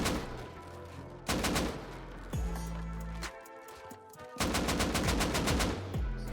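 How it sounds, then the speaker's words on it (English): Gunfire in the video game Rust shoots out twig walls in rapid automatic bursts separated by short pauses, loud and close, with a steady low game ambience underneath. "Go around your inner ring and shoot out the twig with any weapon you've got."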